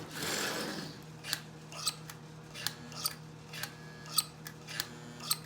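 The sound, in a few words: Marx toy train E-unit cycling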